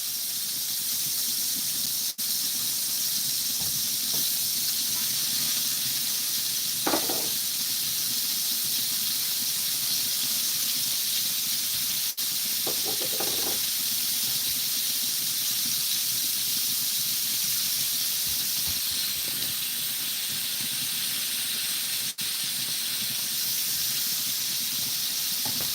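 Hamburger steak frying on a griddle, a steady loud hiss that runs throughout with occasional brief pops and squeaks of the spatula, no talking.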